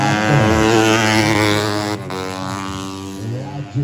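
Four-stroke 150cc underbone motorcycles in a novice tune-up race roar past in a loud, continuous high-revving engine drone with shifting pitch, while a race commentator talks over it.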